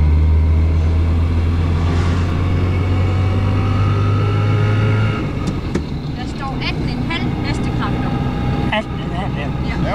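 An old small family car with a 400 cc engine idles with a low, steady rumble that thins out about halfway through, while people talk over it nearby.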